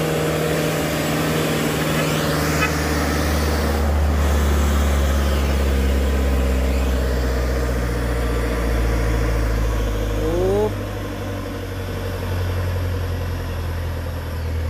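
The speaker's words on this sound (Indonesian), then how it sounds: "Ini akan dicoba lagi truk dutronya." A Dutro truck's engine labors loudly and steadily up a steep hill, a close, droning mid-pitched roar that strains and shifts in tone partway through.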